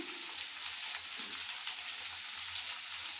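Eggplant pieces fry in a pan for an Indian-style eggplant and potato curry, giving a steady, close hiss of sizzling oil that runs unbroken throughout, with faint low hum beneath and no talking.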